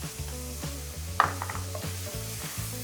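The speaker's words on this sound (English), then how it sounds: "so now I'll add my shallots" Shallots hit melted butter in a de Buyer Prima Matera copper pan, giving a soft, steady sizzle under background music, with a brief clink of a utensil near the middle.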